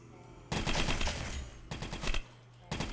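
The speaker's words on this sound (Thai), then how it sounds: "นี่ครับเอาไว้ยิง โอ้ ใช้ได้นะครับ UMP 45นะครับ" UMP45 submachine gun in a mobile shooter game, two long rapid-fire bursts and the start of a third, loud and close, with brief quiet gaps between.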